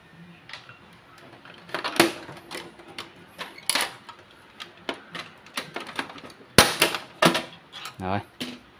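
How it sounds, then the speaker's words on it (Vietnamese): HP LaserJet Pro M401dn printer side cover being opened, a run of sharp plastic clicks, snaps and rattles of varying loudness, close up, with one louder clatter burst near the end. "Mình mở cái nắp bên hông này ra."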